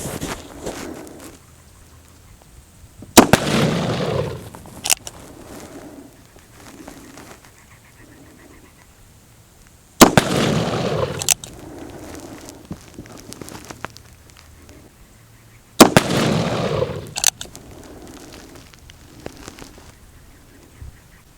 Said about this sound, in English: I've got my hand-loaded black powder round. So again, this is 40 grains, a double F black powder.